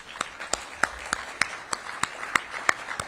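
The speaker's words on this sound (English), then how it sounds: "We should clap for that." At a mayor's remarks event, a handful of distinct, evenly spaced hand claps ring out in a room, sparse and fairly quiet rather than a full ovation.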